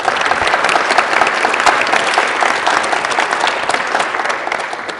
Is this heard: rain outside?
no